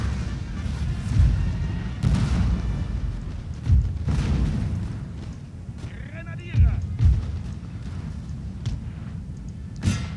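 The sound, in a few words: artillery fire in the video game 1805 European Campaign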